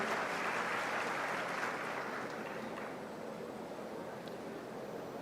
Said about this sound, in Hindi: एक बार उन दोनों के लिए तालियां